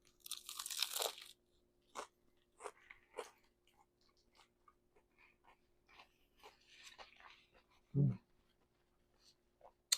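Crisp, close crunching from bites of a Benedict panini with Canadian bacon and butter, followed by scattered chewing sounds and a sharp crunch near the end, in a quiet room.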